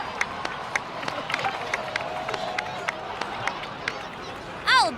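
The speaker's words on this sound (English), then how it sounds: "please give another round of applause for them" A crowd claps and cheers in the Genshin Impact video game, scattered sharp claps over a background murmur, ending with a brief whooshing effect.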